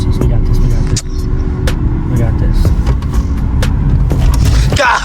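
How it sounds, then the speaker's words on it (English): A manual car rumbles loud and steady with a learner at the wheel, its low engine noise running under people talking before cutting out near the end as the engine stalls. "God, you stalled."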